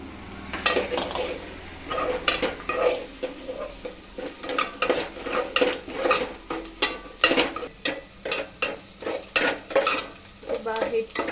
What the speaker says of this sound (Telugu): ఆనియన్స్ బాగా ఫ్రై అయినంత వరకు ఉంచాలి.